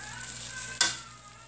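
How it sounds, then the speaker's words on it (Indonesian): Shredded cabbage stir-frying in a hot pan for extra-spicy fried rice gives a steady sizzle, with one sharp louder hiss as the food is tossed, and no talk. "Ditumis, digoreng agak sedikit layu ya kolnya"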